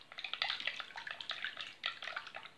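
Mineral water is poured into a dough mixture in a home kitchen, giving close, uneven bubbling and glugging splashes in irregular bursts, with no voice heard.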